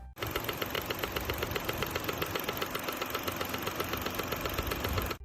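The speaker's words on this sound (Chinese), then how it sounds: "热车引擎出怪声" A Nissan Big Tiida 1.6L engine idles during warm-up with an abnormal noise, a fast, steady mechanical ticking and knocking that runs continuously and fairly loud throughout.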